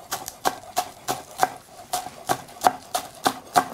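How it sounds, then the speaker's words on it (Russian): Knife finely chopping green onion on a cutting board, a series of crisp, fairly quick taps at an uneven rhythm, close and moderately quiet with no talking. "я нарезаю это все мелко."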